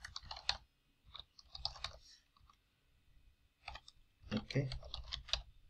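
Someone types on a computer keyboard in short bursts of crisp, close clicks separated by pauses. A brief word is spoken among the keystrokes.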